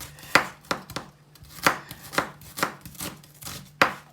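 A knife chops onions steadily on a cutting board, about two crisp strikes per second, close and fairly loud with no talking.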